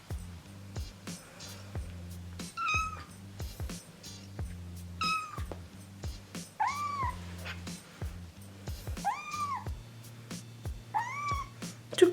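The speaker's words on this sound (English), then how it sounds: "So yes, we have a kitten." A young kitten named Michael, two days into a new home, meows repeatedly in short rising cries spaced through the stretch, close and fairly loud over a steady low hum.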